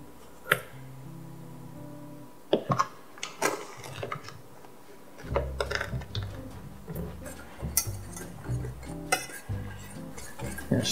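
A spoon stirs packed brown sugar into melted butter in a pot, with irregular scraping, clinks and taps against the pot sides over a low hum, close and fairly loud, with no talk.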